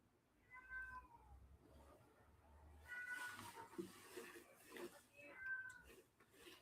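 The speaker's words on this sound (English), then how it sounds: "It's Rocket the cat." A house cat meows three times at spaced intervals, each cry drawn out and moderately distant, mixed with faint background speech and room noise.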